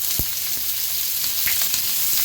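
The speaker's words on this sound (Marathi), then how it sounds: "हा तेजपत्ता आपण फोडणीला घालूया आणि नंतर लगेचच हा बारीक चिरलेला कांदा ॲड करणार आहोत" Steady hiss of finely chopped onions and a bay leaf frying in hot oil, a constant close sizzle with a few soft clinks and stirs, no voices.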